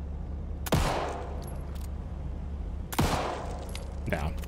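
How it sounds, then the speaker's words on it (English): In Alan Wake 2, a pistol fires two sharp, loud shots about two seconds apart, each echoing briefly, and a fainter third crack follows, all over a low steady ambient hum. "part of me thinks that I have to shoot this"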